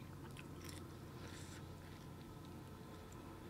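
Crunchy granola soaked in a glass of milk being chewed close up, with soft repeated crunches and bites over a steady low background hum.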